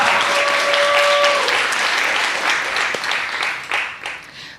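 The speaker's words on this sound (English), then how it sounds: "Let's give another round of applause for Perla" Loud, dense audience applause for a panelist at a youth event, a steady wash of many hands clapping that gradually thins and tapers toward the end, with no talking over it.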